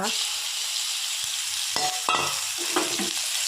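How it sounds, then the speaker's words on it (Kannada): Marinated prawns fry in hot ghee in a pan over a high flame for a prawn ghee roast, giving a steady close sizzle with a few soft stirring scrapes and clinks. "ತುಪ್ಪದಲ್ಲಿ ಎರಡು ಸೈಡ್ ಪ್ರಾನ್ಸ್ ಫ್ರೈ ಆಗಲಿ"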